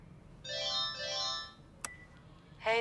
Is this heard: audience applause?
no